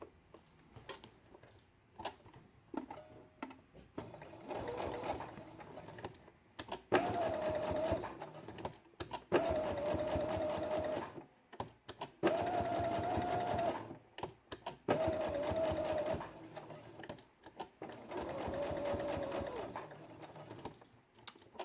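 A domestic sewing machine straight-stitches around two pressed-together felt circles for a quiet book page, running in several steady whirring bursts of a few seconds each with short pauses between them, close and clear.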